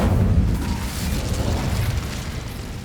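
A fire spell, Incendio, cast in the Hogwarts Legacy game inside a castle setting: a sustained low roaring whoosh of flame that holds steady and loud across the whole moment, with no voices over it.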